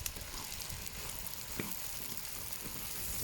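Tomatoes and meat sizzling in a sac pan over a wood fire, a steady close crackling fry with occasional sharper pops throughout.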